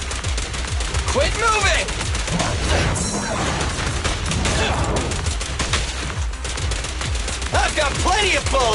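Sustained gunfire from the video game Zenless Zone Zero, dense and continuous over game music and effects, with rapid bursts and impacts filling the whole stretch at a steady loud level.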